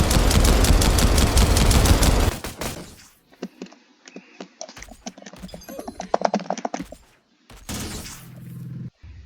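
Titan gun firing in the Dawn of Aurora video game: a dense, loud burst of rapid shots for about two seconds, followed by scattered, quieter bursts and clicks with brief pauses between them.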